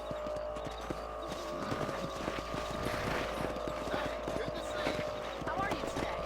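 Horse hooves clop in steady rhythmic beats in the video game Red Dead Redemption, a galloping trot under game music with voices talking over it.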